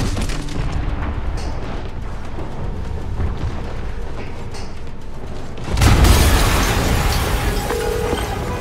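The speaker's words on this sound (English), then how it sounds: "an explosion just... I saw it." A heavy explosion in the PS4 game Spider-Man erupts partway through, a sudden loud boom that rolls into a sustained roar after several seconds of rumbling game ambience.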